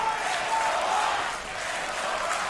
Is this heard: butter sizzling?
no